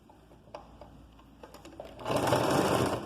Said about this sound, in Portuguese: Aí agora a gente vai fechar a costura, como se fosse aqui, ó, uma manguinha.